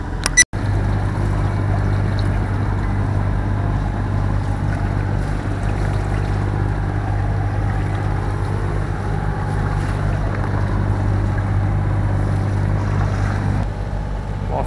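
A sailboat's cold auxiliary engine drones steadily at close range on a short passage from Hondarribia to Saint-Jean-de-Luz, a constant low hum with water and wind noise around it, no voices.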